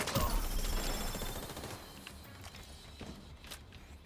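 Video game gunfire comes as a rapid volley of shots that starts loud and close, then thins into scattered, fainter pops and clicks.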